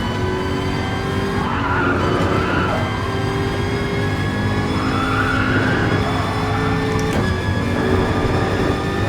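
Tires squeal and skid as a car brakes hard in the Gran Turismo Sport racing game, a loud steady screech layered over the engine's droning hum with a sharp click near the end.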